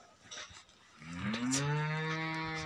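A cow on a farm in Tokha, Kathmandu, gives one long, close moo that rises and holds, following a few seconds of quiet outdoor background noise.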